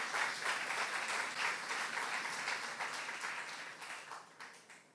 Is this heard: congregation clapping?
yes